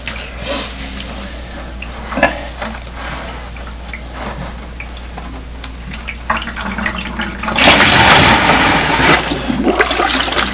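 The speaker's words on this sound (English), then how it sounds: "This water and that rest of that stuff's going to drain down into the other bucket." Water from a gold-prospecting sluice drains through a pulled plug into a bucket, a steady gurgling trickle that swells into a louder rushing splash toward the end.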